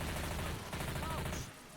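Gunfire from Left 4 Dead 2 on the Hard Rain: Downpour campaign, a dense, loud burst of rapid shots that runs steadily for most of the moment before briefly dropping away near the end.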